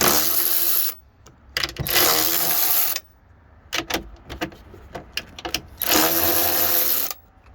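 Ratchet working loose the mirror mounting nuts inside the door of a 2013 GMC Yukon: two long bursts of rapid, buzzy clicking, close and loud, with scattered metallic taps and clicks between them.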